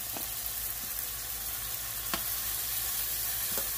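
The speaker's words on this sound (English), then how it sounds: "I'm going to go ahead and get my shrimp going." Shrimp fry in a hot pan for a stir fry, giving a steady close sizzle with a few faint clicks of stirring, with no voices.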